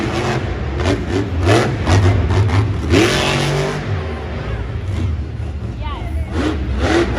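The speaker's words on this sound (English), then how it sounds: "This Kraken Monster Jam truck is hoping to get a good run out here." A Kraken Monster Jam truck's engine revs hard and steadily in a loud stadium at an Anaheim Monster Jam event, swelling in bursts over constant crowd noise while a commentator talks over it.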